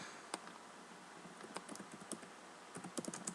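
A MySQL query typed on a computer keyboard, faint scattered key clicks in short uneven bursts with brief pauses, over a quiet background and with no speech.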